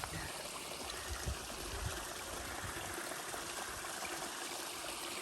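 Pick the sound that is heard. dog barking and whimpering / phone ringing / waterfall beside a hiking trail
waterfall beside a hiking trail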